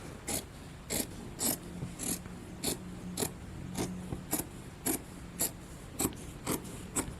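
Scissors cut fabric on a cutting mat in a regular series of short crisp snips, about a dozen evenly spaced strokes close up, with no speech.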